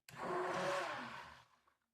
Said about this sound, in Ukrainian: Збиваємо все в блендері.